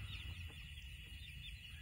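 Black Copper Maran chickens cluck softly and faintly in a farmyard. The murmurs are low and brief over a steady background hum.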